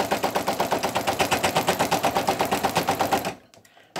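A Brother single-needle embroidery machine stitches an appliqué outline on minky fabric over wash-away stabilizer, a rapid, even mechanical chatter of needle strokes that runs loud and steady before cutting off abruptly into near silence.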